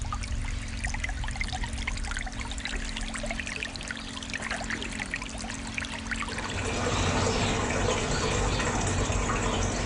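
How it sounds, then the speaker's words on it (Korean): Water recorded outdoors in nature pours and trickles steadily throughout, a continuous close flow that grows fuller and brighter partway through, with other natural sounds mixed faintly beneath. "자연의 소리 중에서도 대부분의 사람들이 좋아한다는 물소리를 채집해서"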